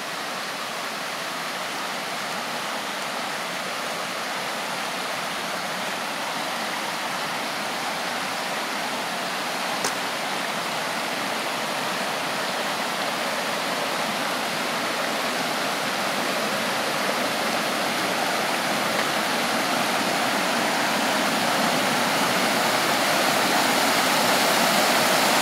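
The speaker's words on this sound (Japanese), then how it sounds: "川のせせらぎの音が聞こえるでしょうか。" A mountain stream, the Kamisawatari River near Sawatari Onsen, babbles and rushes steadily for the whole stretch, a constant broad wash of water with no voices.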